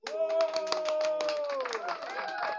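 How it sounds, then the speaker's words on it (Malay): A few people clap along on a casual podcast set, sharp claps scattered through a sustained voice or tone, moderately close and fairly quiet. "Tepuk tangan sikit lu."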